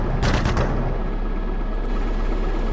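A Gepard anti-aircraft gun fires in the DCS World combat simulator, with a loud rapid burst of cannon shots near the start that quickly fades into a sustained low rumble.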